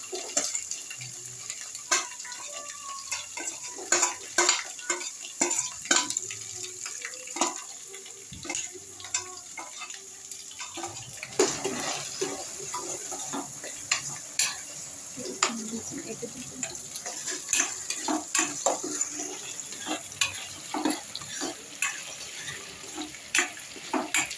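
Egg fried rice with carrot stir-fried in a pan, heard as busy, irregular scraping and clattering of a spatula over a faint sizzle, and the strokes grow denser as the clip goes on.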